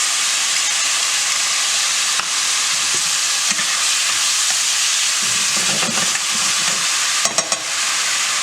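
Peas and carrots hitting a hot pan for gluten-free lo mein: a loud, constant hissing sizzle with occasional scrapes and clinks of stirring and a few sharp clatters near the end. No voice.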